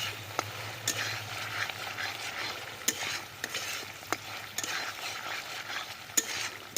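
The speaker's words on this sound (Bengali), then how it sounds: "মশলাটাকে আমরা খুব ভালোভাবে কষিয়ে নেব।" Spice paste being sautéed for a Bhola fish curry cooked over a clay stove, a continuous soft sizzle with regular spatula scrapes and clicks against the pan, close and unaccompanied by speech.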